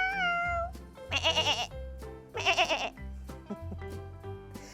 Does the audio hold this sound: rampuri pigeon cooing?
no